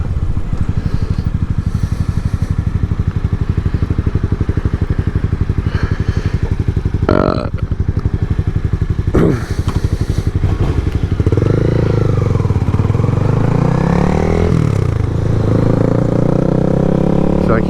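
A motorcycle engine drones loudly throughout a road ride, with rising revs between gear shifts into second and third and a couple of clattering thumps, close and continuous.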